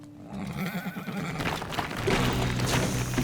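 A horse in the video game Teardown lets out a loud, wavering neigh lasting a few seconds, with a faint clatter of hooves and game noise behind it.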